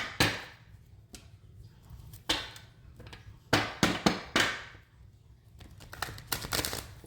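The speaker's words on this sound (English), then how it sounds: "This is the third shuffle." Tarot cards being shuffled for a zodiac reading, giving several sharp riffling bursts and soft slaps that come in uneven groups over a low steady hum, fairly close and moderately loud.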